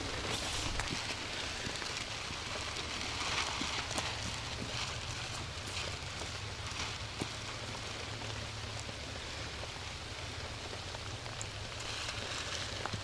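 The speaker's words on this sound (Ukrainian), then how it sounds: "З дерева ляпає." Rain dripping from trees onto a wild riverbank, a dense continuous patter with scattered heavier drops landing close by, steady and moderately faint throughout with no voices.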